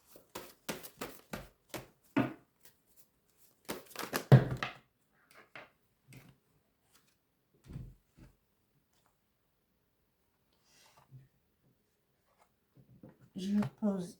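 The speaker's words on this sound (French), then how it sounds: "Je vais tirer une autre carte." Tarot cards are shuffled, drawn and laid down on a table during a reading. Brisk papery flicks and soft taps come in short clusters, mostly near and faint, with a voice talking between them.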